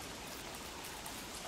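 Steady rainfall in Don't Starve: Reign of Giants, a soft continuous hiss of drops, fairly quiet and even throughout.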